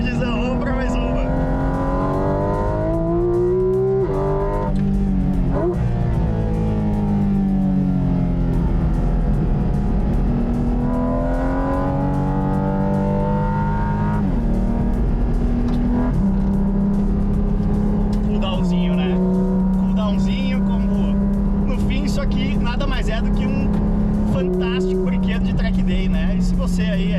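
Track day car lapping a circuit, engine note rising and falling through the gears with audible intake sucking on downshifts, loud and continuous throughout.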